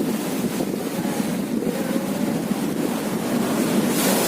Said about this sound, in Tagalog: Malakas pa yung alon, no?